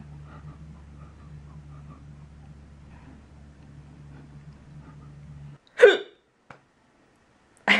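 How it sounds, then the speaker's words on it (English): A person with hiccups lets out a sharp, loud hiccup after a steady low hum cuts out, followed by a softer catch and another abrupt hiccup at the end, close and isolated. "I have hiccups."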